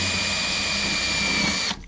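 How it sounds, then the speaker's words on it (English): A power drill drives bolts straight through into an existing wooden deck during a backyard yurt wood stove install, a steady high whine held close for nearly two seconds, then stopping abruptly. "I'm just gonna fill this in and then bolt this straight through into the existing deck"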